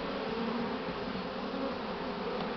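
A swarm of honeybees drones in a steady, dense buzz, loud and close, unbroken throughout with no other sounds.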